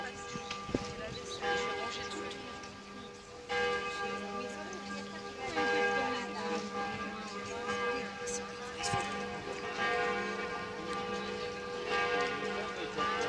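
Notre-Dame de Paris church bells peal continuously with overlapping ringing tones, a busy, layered chime heard at a moderate distance outside with faint voices underneath.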